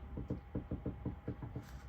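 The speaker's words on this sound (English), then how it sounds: "what sounds like knocking, it's actually a squirrel that's tap dancing on my studio roof" Squirrel tapping on a studio roof, a run of about nine quick, evenly spaced knocks, soft and muffled as if through the ceiling, with no talk.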